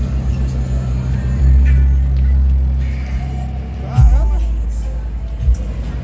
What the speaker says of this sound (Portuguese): E não é Lamborghini, é um Audi,